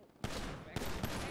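Gunshots in GTA V, two or three sharp bursts of gunfire in quick succession, loud and close, in a short burst.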